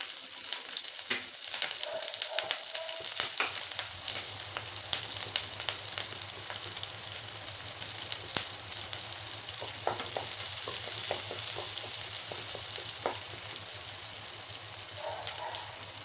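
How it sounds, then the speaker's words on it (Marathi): Green chillies frying in a little oil for a thin-poha chivda give off a loud, steady sizzle with scattered crackles and pops that runs unbroken for the full length, with no voices. "आता मिरच्या टाकायचे"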